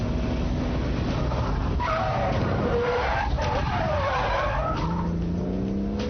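A BMW Z3 M Roadster drifts with tires skidding and squealing, wavering screeches rising and falling over a steady engine roar, loud and continuous throughout.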